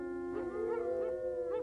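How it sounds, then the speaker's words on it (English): Drawn-out wolf howl, a smooth sustained tone that rises and wavers with a few overlapping pitch swells, moderately loud and clear against a quiet background with no talking. "there's nothing more pleasurable than to hear the howl of the wolf"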